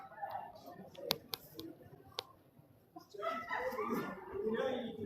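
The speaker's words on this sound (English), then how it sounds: "Got our two little doggies." Two small pet dogs yip sharply a couple of times and whimper softly nearby, with people talking over them for much of the time.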